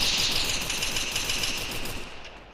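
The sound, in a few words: gunfire in the video game Free Fire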